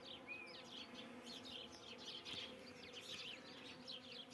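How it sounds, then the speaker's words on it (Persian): Honeybees buzz steadily outdoors in winter sun around a hive where a young bee has just emerged, a dense continuous hum of many insects with brief high chirps from birds nearby. "این زنبوری که مشاهده میکنید دقیقا همین امروز متولد شد"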